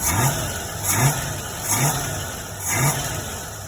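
A car engine with a newly installed Holley carburetor revs up in four repeated bursts, roughly evenly spaced, with the throttle blipping and dropping back to a steady idle between each.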